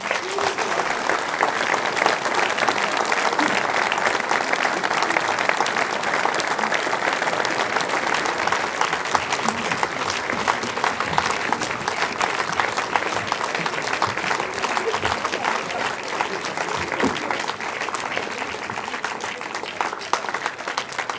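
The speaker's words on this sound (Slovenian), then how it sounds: "predlagam, da jih povabimo na oder z enim velikim aplavzom" A large audience claps steadily and densely to welcome klapa singers onto the stage at an outdoor summer music evening at Žiče Charterhouse. The applause holds at a constant level throughout, with no talking.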